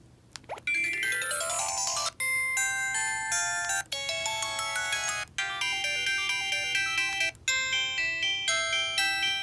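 A bright electronic ringtone melody from a 2003 LG Cyon SD1600 mobile phone plays alone in short repeating phrases of clear beeping notes, with brief pauses between bursts.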